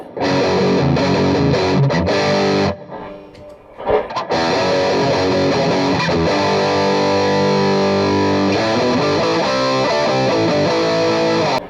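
Electric guitar, a PRS SE Special Semi Hollow, driven through an overdrive pedal plays thick, saturated chords, loud and continuous, with a brief drop in the middle before the distorted riffing resumes.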